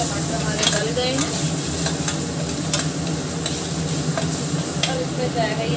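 Softened tomatoes stirred in a pan over a low gas flame while preparing baigan bharta, with a steady soft sizzle and periodic scraping strokes of the spoon, close and alone.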